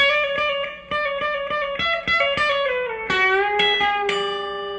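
Electric guitar plays a lick, a string of crisp picked notes followed by a full bend that slides smoothly up and rings out, loud and close with no voice.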